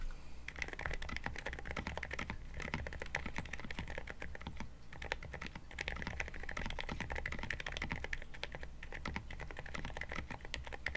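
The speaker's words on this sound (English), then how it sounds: "Here's a quick typing test so you can see how it sounds." Steady, quiet typing on a NuPhy Halo75 V2 keyboard fitted with Cherry silent red linear switches, a continuous run of soft muted keystrokes at close range with no voices.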